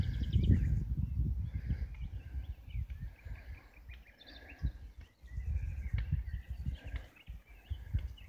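Birdsong including nightingales fills an outdoor setting, with faint, scattered chirps and trills above a steady low rumble of wind or ground noise.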